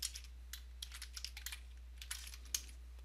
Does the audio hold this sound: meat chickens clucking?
no